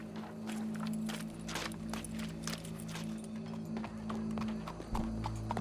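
Horse hooves clip-clopping in Red Dead Redemption 2, a steady run of hoofbeats on hard ground over a low game ambience hum, moderately close, with no speech.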